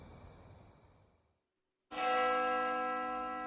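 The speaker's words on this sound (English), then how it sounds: "I hear the sound of a bell." A bell rings inside the horror game Spirit Hunter: Death Mark II. A faint rumble fades into silence, and then a single loud, bright strike follows and rings on in a long, steadily sustained tone.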